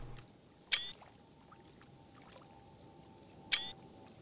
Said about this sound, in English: I know you guys will hear the camera